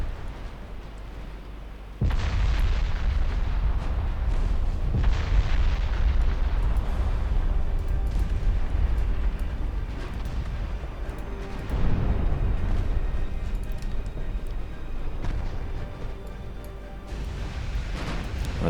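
Naval battle in a pre-dreadnought warship game, with repeated heavy explosions and booming artillery fire rumbling continuously, loud and dense, swelling in several waves with no talking.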